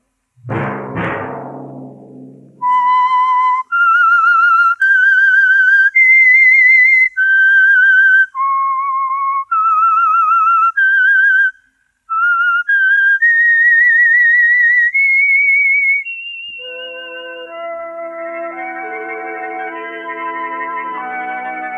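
A clear whistled melody of sustained, sliding notes, the theme of the 1947 radio mystery program The Whistler, played alone, loud and close, ending as a brief musical chord swells underneath.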